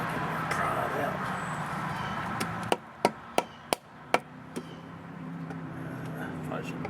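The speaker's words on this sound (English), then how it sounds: "But you gotta try to get it and pry it out." A hub cover window on a 1988 Ford CL9000 cabover truck is pried out with a tool, producing a run of about six sharp taps and knocks close by, after muffled speech and handling noise.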